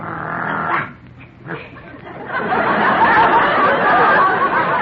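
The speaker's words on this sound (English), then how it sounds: "And this is Daisy, my favorite dog." Dog barking and yipping in a 1952 radio comedy show, in short, fairly loud bursts mixed with chattering voices.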